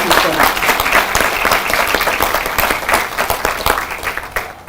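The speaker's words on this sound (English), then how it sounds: "Let's give them a round of applause." An audience at a Nevada governor's housing initiative launch gives a round of applause: loud, dense clapping that holds steady for several seconds and tapers slightly near the end.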